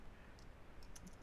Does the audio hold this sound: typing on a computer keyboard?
yes